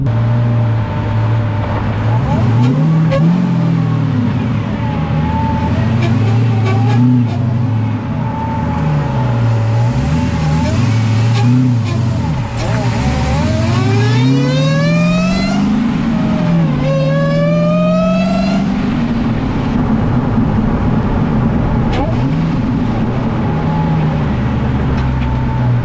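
Dodge Hellcat fitted with a drift angle kit, its engine loud and close throughout, revving up and down repeatedly with several sharp climbing accelerations and gear changes.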